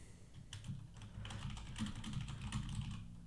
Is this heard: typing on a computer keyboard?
yes